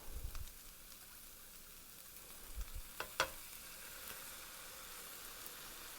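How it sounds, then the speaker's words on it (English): Shrimp stock stirred into sizzling flour and vegetables gives a constant frying hiss, with a few soft spoon knocks and a bubbling splash near the middle. "So now we're going in with a good shrimp stock. I'm going to stir it up."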